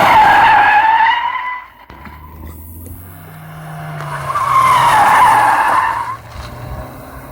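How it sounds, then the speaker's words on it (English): A front-wheel-drive Volkswagen Golf drifting on tarmac with the handbrake pulled, producing two long loud tire squeals separated by a brief lull, with engine noise underneath. "So pull that e-brake up really hard, counter steer, hit the gas, and you know, it'll be something like this."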